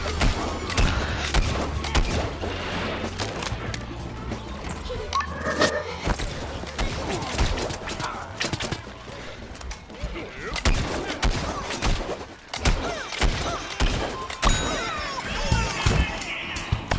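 Rapid gunfire from the Paleontologist character in Plants vs. Zombies Garden Warfare 2, with dense bursts of shots and thumps continuing throughout, mixed with game effects and occasional talk.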